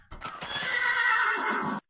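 A Minecraft horse lets out a single loud, drawn-out whinny close by, with a few soft hoof clops at the start.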